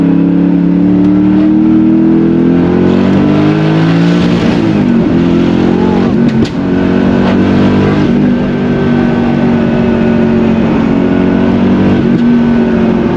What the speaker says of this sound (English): It's that fourth gear turbo shove.